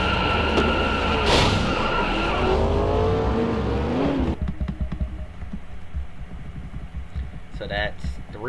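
Race cars skidding and wrecking at Talladega, with loud engine roar and long tire squeals in the first half, then a rougher scraping rumble and another short squeal near the end, with commentary talking over it.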